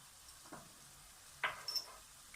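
Crushed red chili and turmeric powder frying in a pan with oil for spicy achari potato karahi, a faint low sizzle broken by a couple of short stirring scrapes.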